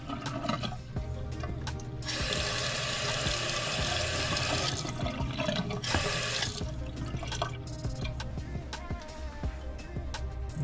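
Water runs from a faucet into a freshly unclogged sink, with two loud rushing stretches broken by clanks and handling noises of pipe parts being fitted.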